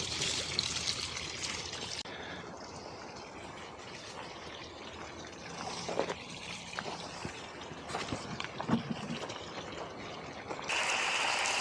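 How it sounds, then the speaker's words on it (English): A submersible pump pushes water out through a hose into a fish pond filtration setup, giving a steady, moderately quiet pouring and trickling wash that runs unbroken with small splashy surges. "All you need is a submersible pump and a hose to connect it to."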